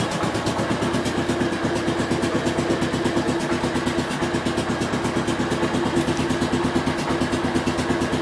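A 1967 430 V8 engine idles steadily and close by, its even rapid pulsing continuous throughout with no one speaking.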